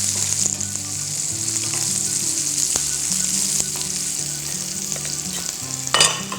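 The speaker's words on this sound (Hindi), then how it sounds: "इसे हम भून लेते हैं। गैस की फ्लेम हाई रखेंगे और इसे भून लेंगे।" A large onion sizzles in a pan over a high gas flame for cheese angoori sabji, a steady, dense frying hiss throughout with soft tonal sounds underneath and a brief louder flare near the end.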